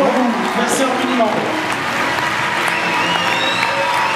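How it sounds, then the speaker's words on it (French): Audience applause and cheering for teenage contestants at the Miss National 15/17 pageant, a dense sustained wash of clapping from a large crowd with a few whoops, mixed under continuing talk. "qui méritent bien évidemment les applaudissements du public"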